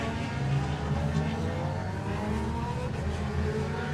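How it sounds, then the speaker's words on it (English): Superbike motorcycles, including BMW 1000RRs, race on the Kirkistown circuit, with a continuous, loud, high engine drone and shifting revs that sound fairly close throughout. "The bikes are on The Superbike's out on track."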